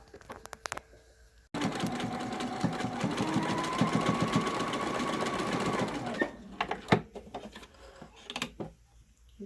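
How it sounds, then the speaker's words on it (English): A sewing machine stitches down the pleats along the edge of a fabric PPE face mask. It runs as one steady, close mechanical whir for several seconds, then stops, and a few scattered clicks and handling noises follow. "I'm going to stitch down these pleats right at the edge so that they stay in place."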